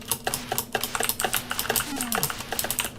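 Rapid, irregular clicking of keys pressed on a ZX Spectrum keyboard, close and crisp, with a faint sliding tone passing underneath partway through.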